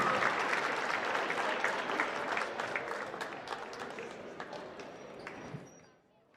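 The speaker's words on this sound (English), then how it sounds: "Let's give another round of applause to these great senior athletes" Gym crowd applauds senior high school basketball athletes, dense clapping that gradually thins and fades out near the end, with a few scattered claps and voices mixed in.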